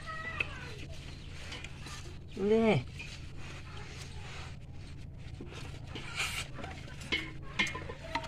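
Curry stirred in a pan over the heat, soft scraping and faint sizzle running underneath close talk, with a brief cat meow partway through.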